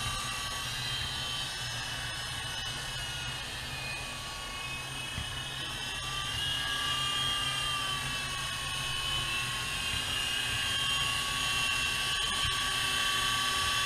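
GP Toys G610 3.5-channel toy RC helicopter flying nearby, its small motor and rotors producing a steady high-pitched whine that shifts slightly in pitch as it hovers and maneuvers.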